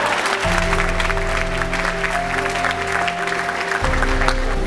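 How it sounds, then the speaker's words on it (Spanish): An audience at a graduation ceremony breaks into applause that stays steady and dense for several seconds. The clapping fills a large hall beneath a sustained musical tone. "También un aplauso ahí."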